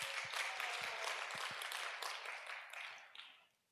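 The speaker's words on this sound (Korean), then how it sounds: "우리 이들을 위해서 감사의 박수하면 좋겠습니다." Church congregation at a Sunday young-adults worship service in Jeju applauding steadily, a dense roomful of clapping that holds for a few seconds and then tapers off to quiet.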